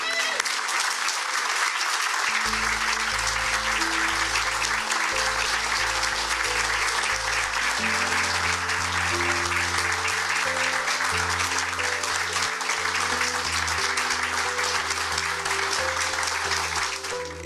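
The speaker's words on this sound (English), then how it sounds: "Let's give him a round of applause" Crowd applause greeting a new college football head coach, loud sustained clapping and cheering that runs throughout, with music and a voice layered underneath.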